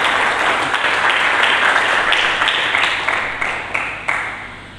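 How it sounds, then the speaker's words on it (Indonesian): A church congregation applauds during a Good Friday sermon, a loud dense wash of clapping that holds steady and then thins into a few scattered final claps. "Coba mari kita berikan tepuk tangan bagi Yesus Kristus."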